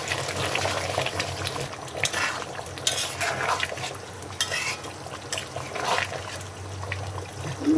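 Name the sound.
hot broth poured into beef and taro curry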